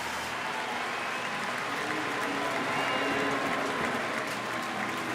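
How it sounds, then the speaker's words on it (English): Crowd applause at Wrigley Field as pitcher Shota walks back to the Cubs dugout, a broad, continuous roar of many clapping hands in a large ballpark, steady and evenly sustained, somewhat distant. "he gets a round of applause as he makes his way back to the dugout"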